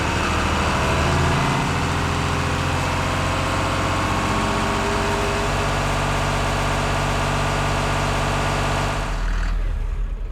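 A heavy tractor engine in Farming Simulator idles loudly and steadily with a low rumble, then cuts off near the end, leaving brief quiet.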